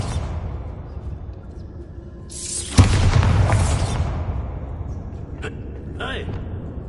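A Bombarda spell in Hogwarts Legacy sets off a single loud boom that rolls and decays over about a second, followed by quieter game ambience and a few faint effects.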